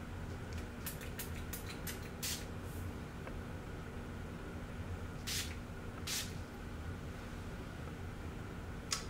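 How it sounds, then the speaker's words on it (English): A room-spray atomizer sprays an alcohol-based scent in a quiet room. Several short, sharp hissing bursts come up close, first in a quick cluster of five or six and then two more a few seconds later. "let's see how it sprays."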